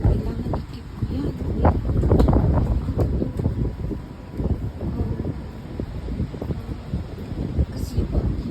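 Typhoon wind gusting in Hong Kong, buffeting the microphone with uneven rumbling bursts and rustling under a voice speaking.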